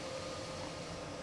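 A coal freight train in a train simulator game on the Ruhr-Sieg-Nord route begins to pull away with brakes released, giving a steady, even rumble and hiss with no talk.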